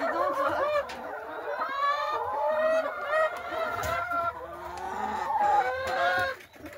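Farm hens and a turkey cluck and chatter continuously at close range in an overlapping, busy flock with no talk over them.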